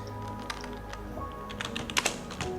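Keys clatter on a computer keyboard as a command is entered in a Kali Linux terminal, a steady close patter of keystrokes with a few sharper taps near the end, no voices.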